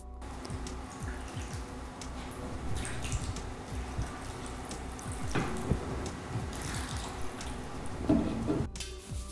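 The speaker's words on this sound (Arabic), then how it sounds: "هسه هندفع فتيت الماء" Water trickles and splashes into a cooking dish during Tunisian home cooking before it goes into the oven, a soft continuous pour with small drips and a few louder splashes near the end, fairly quiet and with no speech.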